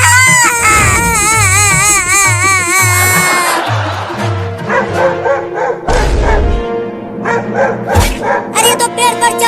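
A dog barks in a slapstick Hindi comedy skit as it tries to climb a tree, with short yelps and barks breaking through a loud, busy mix of music and background sound.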